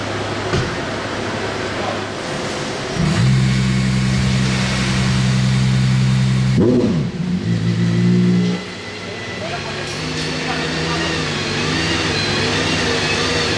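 A Bugatti sports car engine fires up and revs hard with a steady droning pitch, drops back, then idles and revs again under some nearby chatter, at a historic Grand Prix event.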